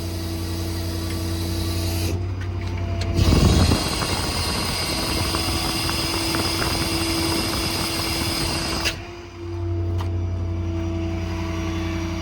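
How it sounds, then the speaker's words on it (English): The hydraulics of a 2011 Ford F550 IMT service truck whine with a steady tonal hum as its outriggers deploy, the PTO engaged and the engine idled up. A louder rush of hydraulic flow swells near the start, and the pitch shifts as the outriggers finish. "Outriggers are fully deployed."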